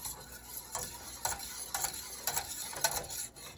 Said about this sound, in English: And you're going to go ahead and begin to whisk it.